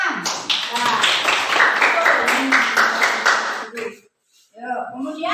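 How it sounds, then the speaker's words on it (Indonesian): A classroom of students claps hands together in a sustained burst of applause lasting about four seconds, then stops briefly before a voice begins talking. "Ya, tepuk tangan."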